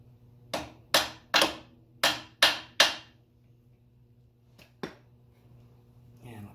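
A bent metal bracket on an '87 Chevy S10 front suspension is tapped into place with a hammer, six sharp close knocks in a quick series, then a pause and two more lighter taps.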